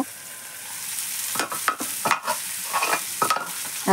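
A spatula repeatedly stirring food in a pan, with irregular close scrapes and clatters over a soft background sizzle and no voices.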